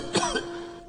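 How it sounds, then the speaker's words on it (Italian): A single harsh cough bursts out in a comedic Italian scene, loud and close, with a quieter throaty follow-up right after and a steady hum underneath. "C'ho una tosse!"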